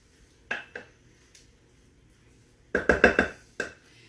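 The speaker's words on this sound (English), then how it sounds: "I'm just going to spread it kind of evenly in the dish so that it cooks evenly" A utensil clinks and scrapes against a baking dish while broccoli bake is spread evenly. Two sharp knocks come early, then after a quiet stretch a quick cluster of four or five clatters, with one more right after.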